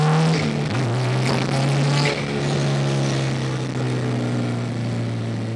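A Honda CRX with a K20A2 engine pulls under load, a loud, close engine drone holding a steady pitch, dipping briefly and then climbing gradually as it accelerates.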